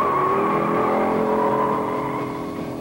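A 1971 Dodge Challenger with a 383 V8 accelerates hard from the line, a loud, close, sustained engine roar with a rising pitch that fades slightly at the end.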